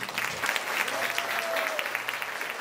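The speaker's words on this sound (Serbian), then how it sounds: "Prvo jedan veliki aplauz za Peace Run." A crowd at a Peace Run sports event in Belgrade claps in dense, sustained applause, loud and even from start to finish.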